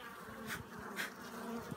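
Honeybees buzz around an opened hive frame, a steady close hum with a couple of louder passes as bees fly near, heard alone without talk.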